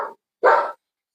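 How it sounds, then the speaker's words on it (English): Dog barking indoors in the background, two short barks, the second longer and stronger, with silence between them. "You'll hear my dog in the background."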